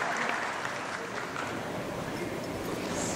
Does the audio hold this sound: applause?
yes